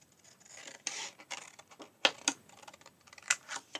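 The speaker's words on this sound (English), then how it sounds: "I'm going to take my scissors" Scissors cut card in a series of short, crisp snips and rustles, with a few sharper clicks of the blades closing, close and moderately loud with no talking.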